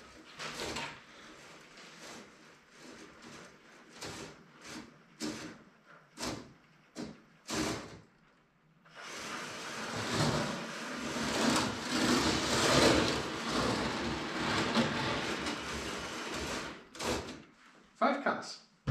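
A LEGO Theme Park roller coaster train with four cars runs along its plastic track, giving a fairly close, quiet clattering rumble with irregular knocks and a longer rolling stretch, and a voice speaks briefly.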